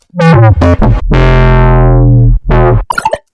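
A bass synth patch run through a high-passed convolution reverb that touches only the top end, sounding as a few short punchy notes, then a long sustained note whose harmonics slowly fall, then more short notes, loud and alone.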